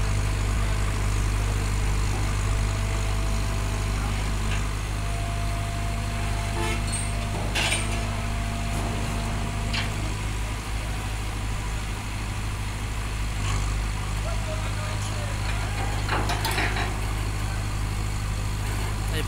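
A loaded vehicle ferry's engine running as it prepares to depart, a heavy low drone holding steady throughout with a few faint knocks and some voices nearby.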